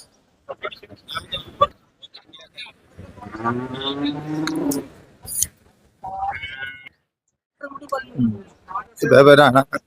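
Cattle at a crowded livestock market in Pollachi, with several loud, drawn-out moos close by, separated by short gaps and mixed with bursts of people talking.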